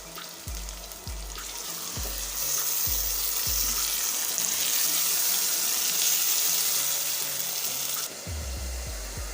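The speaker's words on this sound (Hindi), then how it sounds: "इसके बाद टमाटर शामिल करते हैं।" Tomatoes sizzle steadily in a hot pan for dhaba-style daal channa fry, a constant bright frying hiss opened and closed by a few soft spoon taps and stirs, close and fairly loud with no talk.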